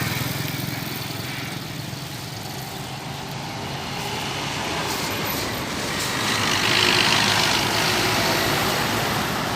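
A Scania bus bound for Solo approaches and passes, a steady engine rumble and road noise that builds gradually and peaks near the end, heard without talk.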